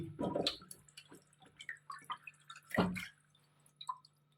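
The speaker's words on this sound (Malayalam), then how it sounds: "മീനൊന്ന് നല്ലപോലെ ഒന്ന് കഴുകി വൃത്തിയാക്കി" Fish being washed by hand in a vessel of water makes intermittent splashes, drips and wet squishing sounds, close and fairly quiet, with pauses between bursts.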